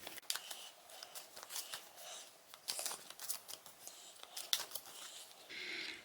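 Soft, quick riffling and tapping of prompt cards being shuffled close by, in several short bursts, quiet and papery.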